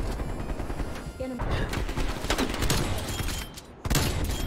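Gunfire in the shooter game Black Ops Cold War, a dense burst of rapid shots and booms running through most of the stretch, with a short break before a last loud volley, under faint background chatter.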